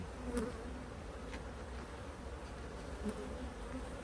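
Honey bees hum and buzz steadily around a hive, a soft continuous drone with individual bees passing close now and then.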